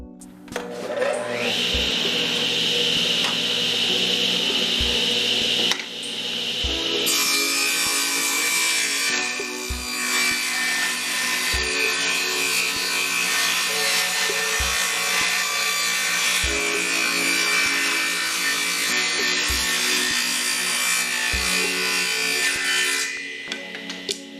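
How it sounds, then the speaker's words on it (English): A rough wooden tray for an old trunk is sanded with steady, abrasive rasping strokes, close and loud, continuing with brief pauses and soft periodic knocks. "It's kind of rough, but you can easily sand it off to make it the shape you want."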